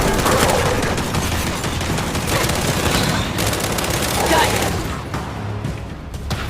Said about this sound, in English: We can't deal with those turrets!